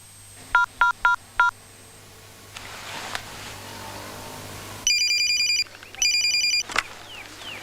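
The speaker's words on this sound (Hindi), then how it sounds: "there's a call for Santosh ji" A phone line beeps with four quick dialing tones, then after a pause rings in two long electronic bursts, close and clear with no talk.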